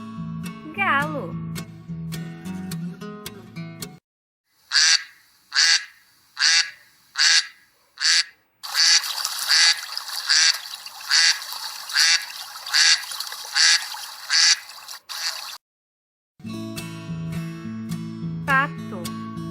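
Duck quacking loud and close, first as a string of separate quacks and then as a denser run of rhythmic calls, with music before and after.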